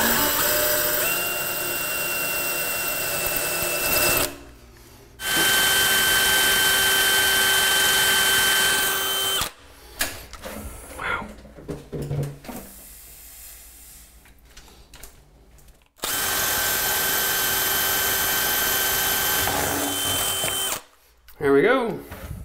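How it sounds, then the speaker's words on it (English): A power drill fitted with a glass and tile bit bores a hole in ceramic tile, running in long steady whining stretches broken by brief pauses, loud and close. "So I'm just gonna finish drilling the holes and then we're gonna mount this thing."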